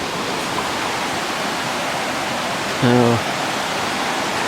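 Waterfall cascading along Glade Creek trail, a steady, full rushing roar of falling water close by throughout, with a brief spoken word heard over it near the end.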